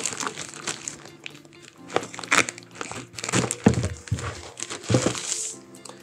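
Matte-white plastic packaging bag around a TP-Link Omada ceiling access point crinkling and rustling in close, irregular bursts with occasional crunches and thunks as it is handled.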